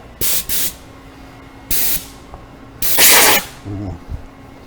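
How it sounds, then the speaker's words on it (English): Compressed air from an air compressor hisses through a spray wand in short, sharp blasts, four separate bursts at close range with the third the longest and loudest. "Let me turn up the air pressure on my compressor."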